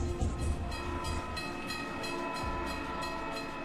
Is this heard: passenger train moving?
yes